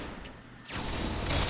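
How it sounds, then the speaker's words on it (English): A volley of rockets fires in a competitive match, a quiet rush of launches swelling into a dense, rumbling barrage toward the end, with no voices over it. "Akroz shooting in his rockets"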